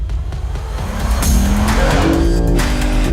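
A 2022 Lexus IS 500 F Sport roars loudly down a race track straight, its engine note rising steadily as it accelerates, close and continuous with no talk.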